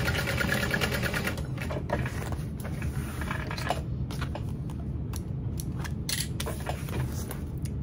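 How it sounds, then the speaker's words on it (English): Sewing machine stitching around the sides of a Fortuna backpack, a steady mechanical whir with rapid needle clatter running continuously and close, with brief pauses and shifts in pace. "And just sew around all the sides."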